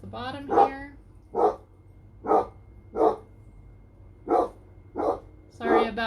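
Several dogs bark in short, separate bursts, about seven over a few seconds at a steady distance, with a little talk at the start.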